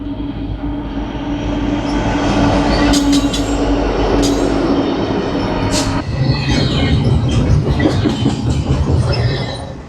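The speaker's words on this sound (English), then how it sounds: "the freight trains that come through the area just pass on by" A freight train rolls past nearby in Caliente, Nevada, with a steady heavy rumble, rattling cars and sharp metallic wheel squeals cutting through, no voices.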